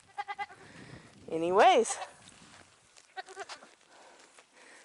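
Baby goats in a barn pen, one loud wavering bleat in the middle with softer short bleats before and after, while a person speaks.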